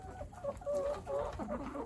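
Farm chickens clucking in a pen near a gate where grain is scattered, giving short overlapping cackles and clucks, fairly close, against steady outdoor background noise.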